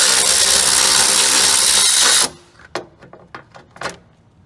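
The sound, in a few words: removing 10 mm bolt from car radiator fan shroud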